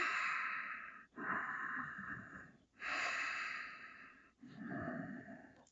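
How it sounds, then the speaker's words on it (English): Slow, deep breathing during a yoga class for calf cramps: four long, quiet breaths close to the ear, each a soft, airy rush separated by short pauses. "breathe."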